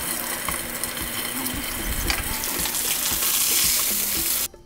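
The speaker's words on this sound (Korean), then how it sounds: "뚜껑을 덮지 않으면 기름이 온 사방으로 다 튀어서 주방이 엉망이 될 겁니다" Mackerel frying in oil in a pan gives off a steady, dense sizzle with scattered pops and crackles, close and fairly loud, cutting off abruptly near the end.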